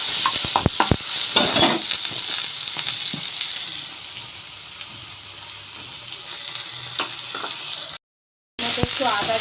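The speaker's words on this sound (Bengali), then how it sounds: "এখানে আমি জিরে, শুকনো লঙ্কা, তেজপাতা আর একটু টমেটো কুচি দিয়ে দিলাম।" Cumin, dried chilli, bay leaf and chopped tomato sizzle in hot oil in a kadai, a dense continuous frying hiss with crackling pops and stirring clatter, loud at first then settling, with a brief gap near the end.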